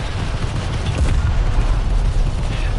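Naval battle in the game War Thunder, with a ship's guns firing nonstop: a heavy, continuous roar of booming cannon and rapid gunfire, loud and close, with no talking.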